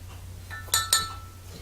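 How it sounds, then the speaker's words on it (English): A utensil clinks twice against a glass jar while stirring vitamin E into homemade propolis salve, two bright close taps over a faint steady hum. "Then stir it in there real good."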